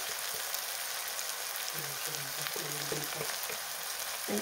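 Tomato fries in oil for egg bhurji with a steady, fairly quiet sizzle. Faint stirring scrapes and a soft voice-like murmur sit midway under the frying.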